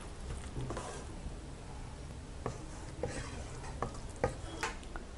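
Vegetable keema being stirred in a pan, with soft scraping strokes and faint sizzling in a steady, low-level bed, punctuated by a few light spoon clicks against the pan.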